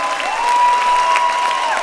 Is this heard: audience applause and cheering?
yes